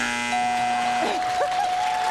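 An electronic bell chimes on a television game show, ringing with steady sustained tones over a bright, busy studio background.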